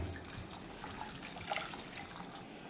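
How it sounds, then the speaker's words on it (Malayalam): Half a litre of water is poured into a pan of fish curry base with Kashmiri chili powder and rock salt, making a soft continuous trickle and splash that stops near the end, faint and without speech. "ഇതിലേക്ക് ഞാൻ അര ലിറ്റർ വെള്ളമാണ് ഒഴിക്കണേ"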